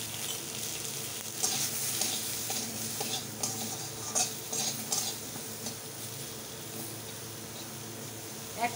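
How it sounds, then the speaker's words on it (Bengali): Cut eggplant fries in oil in a pan with a continuous sizzle, broken by occasional stirring scrapes and light clicks. "এই যে একটা বেগুন কেটেছি, এই তেলে বেগুনটা একটু ভেজে নিই।"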